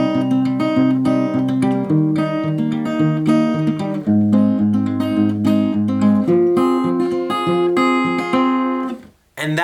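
An acoustic guitar plays the intro of a song, with fingerpicked arpeggiated chords ringing close and clear. The phrase runs continuously and then stops abruptly near the end.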